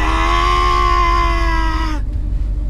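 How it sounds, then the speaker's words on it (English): Truck with a built Showtime transmission, running very low on gas, its engine droning in a steady whine. The engine abruptly cuts out about two-thirds of the way through, leaving only a low rumble. "this truck has a big stall in it, guys. So if you listen closely, you're gonna hear it go"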